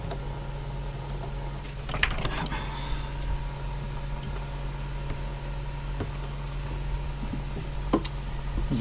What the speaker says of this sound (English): go turn the key on and let the fuel pump